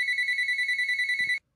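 A telephone rings with a steady, bright electronic trill that pulses rapidly and evenly. It sounds close and clear, plays alone, and cuts off abruptly after a little over a second.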